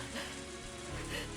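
Rain falls steadily as a sound effect in the Higurashi video game, a dense, even wash of raindrops on surfaces filling the whole moment.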